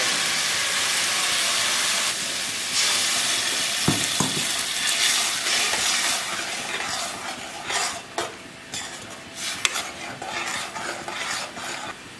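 Ground masala paste added to fried onion in a pan, sizzling steadily while a spoon scrapes and clinks against the pan in irregular close strokes, with no talk.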